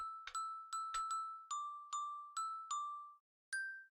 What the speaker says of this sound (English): we have some jingle bells going on in the background